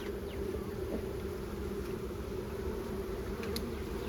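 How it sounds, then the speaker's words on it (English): Bees buzz steadily around an open beehive outdoors, a continuous close drone at even loudness with a few insects passing nearer, no talking. "No, he's a bee."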